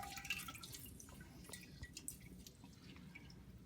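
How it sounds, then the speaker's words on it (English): Fresh lemon juice drips through a strainer in a few faint, close, irregular drips over quiet background. "So I'm just going to squeeze that over a strainer."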